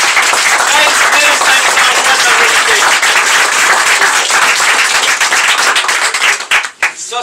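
A crowd at a political gathering in Matane, Quebec, bursts into loud, continuous clapping with a few voices mixed in, holding steady before thinning out in the final second.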